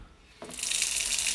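Water gushes from an opened sink tap after a new well pressure tank installation, a short quiet pause then a sudden, steady, close hiss of running water with no talk.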